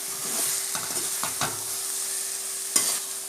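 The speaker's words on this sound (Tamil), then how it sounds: "மேலேயும் கீழேயுமா நல்லா கிளறி விட்டுக்கலாம்" Soybeans fry in a pan as they are stirred, steady sizzling with scraping strokes and a sharp clink near the end, no voice.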